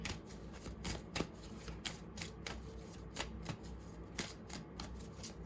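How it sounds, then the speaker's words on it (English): Tarot cards are shuffled by hand in a quick, riffling rhythm of soft flutters and light taps, close and quiet with no voices. "let's shuffle again,"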